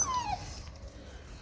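A rescued pet dog gives a brief, high, quiet whimper that falls in pitch, followed by faint household background, with no talk.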